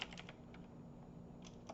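Faint, quiet typing on a computer keyboard, with small clusters of light keystroke clicks at the start and end over a low background hum.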